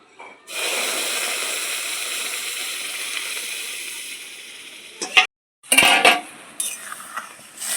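Ripe mango pulp cooking in a kadai for aamsatta, a steady close hiss and sizzle for several seconds, then broken by sharp spoon-against-pan clatters and scraping as it is stirred.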